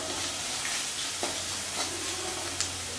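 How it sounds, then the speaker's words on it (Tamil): Chopped onion frying in a pan with turmeric powder, a steady close crackling sizzle with a few brief stirring clicks and scrapes, no voices. "பாருங்கள் ஆனியன் இந்த அளவுக்கு ஃப்ரை ஆனால் போகிறோம்."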